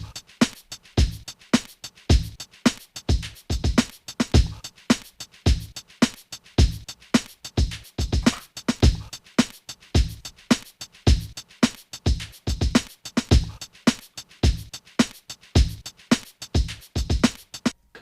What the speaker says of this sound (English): this beat has 7 different sounds. So it starts with this kick, this very snappy snare, but that still has a little bit of crackle in it.